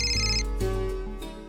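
A telephone ringtone in a household scene, a clear electronic melodic ring repeating about three times in quick succession, loud and close with no talking.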